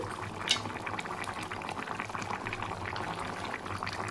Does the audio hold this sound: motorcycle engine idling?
no